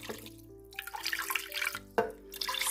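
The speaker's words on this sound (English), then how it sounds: "I was going to add half a cup of water" Water poured from a cup into a meat casserole in a home kitchen, a short wet splashing and trickling that runs steadily for under three seconds, close and fairly quiet with no talking.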